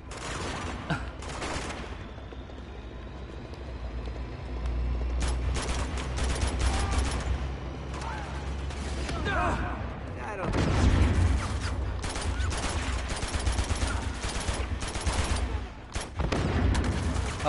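Uncharted 2 combat gunfire, rapid bursts of shots and automatic fire crackling repeatedly with heavier booms mixed in, while a player talks over the fighting.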